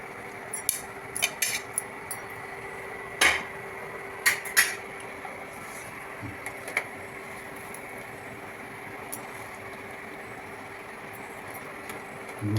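A spoon mixes backwater prawn biriyani in a pot, giving scattered metallic clinks and scrapes, some in quick clusters, over a low steady background hum.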